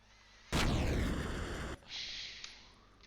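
A heavy weapon fires at an aircraft carrier in Space Engineers. It lets out one loud, sudden blast that booms and rumbles for about a second, then cuts to a quieter hiss.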